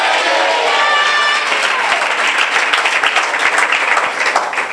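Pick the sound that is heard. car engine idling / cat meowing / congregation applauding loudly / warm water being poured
congregation applauding loudly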